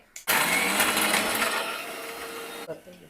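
A kitchen mixer grinder whirs loudly and steadily as it grinds spice paste for a yellow vam fish curry, starting abruptly after a brief knock, running for over two seconds and then cutting off.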